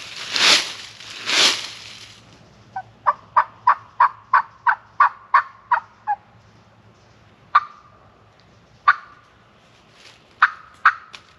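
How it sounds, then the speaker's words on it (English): Two loud, close calls open the clip, then a fast run of about ten sharp repeated gobbles, followed by a few more spaced gobbles at a distance. "You think that was a gobble right there?"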